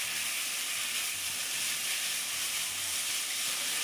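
Cut-up bacon pieces frying in a pan give off a steady, even hiss and sizzle for the whole stretch, with no talking.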